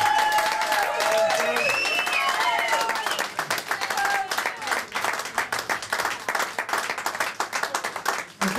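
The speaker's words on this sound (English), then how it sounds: "So can you just give Josie a massive round of applause?" A village crowd at a grand draw in Bampton, Oxfordshire, applauds Josie with sustained hand clapping that grows into dense, close, individually distinct claps; a voice speaks briefly at the start.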